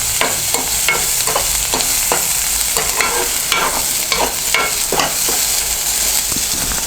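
Onions frying in a pan for a banana tomato curry, a steady close sizzle with repeated scraping stir strokes running throughout, no talking.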